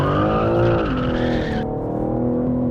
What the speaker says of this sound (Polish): Nawet zobaczcie, w takim szybkim 140 km uślizg.